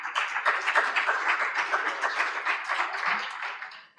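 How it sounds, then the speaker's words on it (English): A conference audience gives a short burst of applause to welcome a speaker, many hands clapping fairly evenly at moderate volume and tapering off at the end. "Warm welcome of applause for Mark MacLeod."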